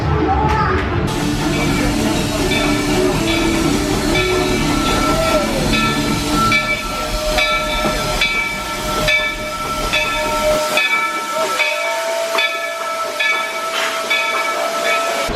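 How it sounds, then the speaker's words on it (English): A Magic Kingdom steam train at Walt Disney World hisses and chugs loudly with a steady rhythmic beat, whistle-like tones ringing over the huffing, then the low rumble drops away near the end. "There are some who say that this steam train is a little old-fashioned"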